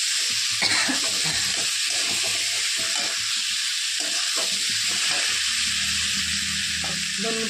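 Potato stir-fry with salt and crushed peanuts sautéing in a pan, a loud continuous sizzle with scraping and stirring clatter throughout, close and without talk.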